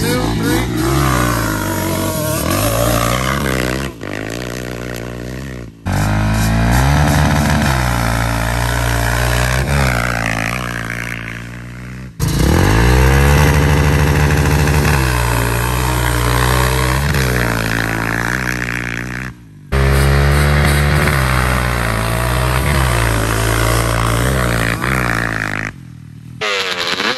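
A Yamaha Banshee two-stroke ATV and a Can-Am ATV race, their engines revving loudly in long climbing and falling sweeps that are broken by brief gear-change drops and gaps.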